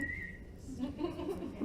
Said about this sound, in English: Is that a good whistle, a bad whistle?